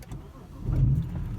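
A BMW E90 sedan's engine cranks and catches, a low rumbling start that settles into a steady idle close by.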